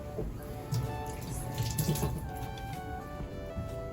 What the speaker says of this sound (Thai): ขอล้างมือ